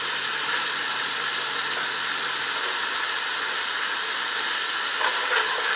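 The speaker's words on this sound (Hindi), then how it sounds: "दो मिनट आपने इसको प्याज को फ्राई करना है" Onions frying in a pan with melting seasoning cubes for Chinese chicken vegetable rice give a steady, even hiss and sizzle with no talk.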